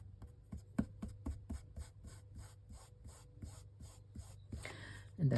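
Half-inch tape pressed down and rubbed onto paper by hand, a soft, close, rhythmic scratchy rubbing in repeated strokes, quiet and alone.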